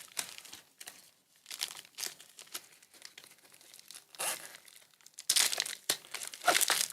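A package inside another package is torn open and unwrapped by hand, with crinkling plastic and paper, sharp ripping bursts and rustling that grows louder toward the end, and no voices.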